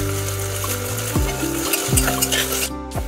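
Onion, ginger-garlic paste and green chillies sauté in a pan with a close, constant sizzle broken by a few quick spoon scrapes and light clinks, no talking.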